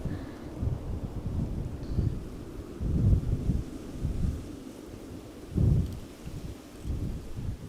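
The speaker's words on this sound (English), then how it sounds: "Meanwhile, wind is picking up." Gusty wind buffets an outdoor microphone at Schiphol Airport, a steady low roar that swells in several stronger gusts, with no other clear sounds over it.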